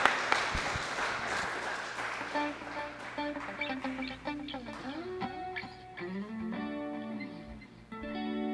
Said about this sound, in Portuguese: Você pode dar uma salva de palmas para Jesus, bem forte